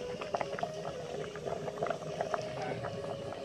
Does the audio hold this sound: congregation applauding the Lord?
no